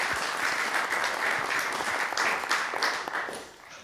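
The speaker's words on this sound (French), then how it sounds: "elle mérite vos applaudissements" Warm applause from a seated audience at a book presentation, steady clapping of moderate size that swells briefly and then fades out near the end.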